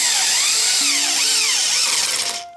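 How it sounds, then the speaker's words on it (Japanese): A power drill with a 4 mm bit bores into wooden flooring for a DIY kitchen underfloor storage job, giving a loud, close, whining pitch that wavers under load and cuts off abruptly at the end. "ドリル使ってみますか。"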